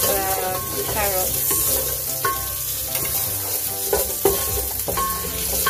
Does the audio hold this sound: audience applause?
no